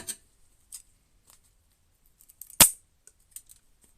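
Scissors make one sharp, close snip while trimming a feather for a handmade dream catcher, with a few faint clicks and rustles around it in an otherwise quiet room.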